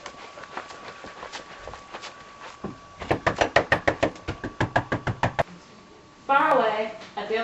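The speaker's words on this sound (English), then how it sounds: "Kit was hammering madly on the street door." Someone hammers madly on a street door: a quick run of about fifteen loud, evenly spaced knocks, preceded by a few fainter raps, with a voice starting up right after.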